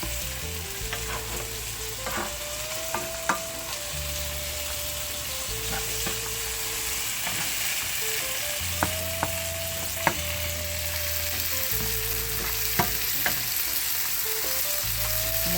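Bell peppers in three colors fry in a pan for a Jamaican jack mackerel dish, giving a steady, close sizzle with recurring scrapes and clinks of stirring.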